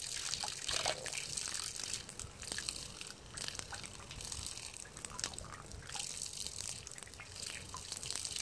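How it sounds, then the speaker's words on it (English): Fresh spring water trickles and drips near a manatee drinking from the spring outdoors in Key Largo, a steady hissy wash of flowing water with scattered small splashes, no voices. "Drink the fresh water coming out of the spring."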